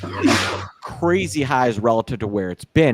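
A single short sneeze bursts out at the start, close and sharp, then a person speaks steadily for the rest in a market news show.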